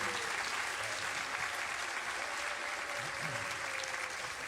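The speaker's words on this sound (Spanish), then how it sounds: "Les pido un aplauso para uno de los mejores músicos que tenemos en el Perú" Audience applause at the opening night of the 7th Ficwallmapu festival in Peru, a dense, steady wash of many hands clapping throughout, fairly distant and even in level.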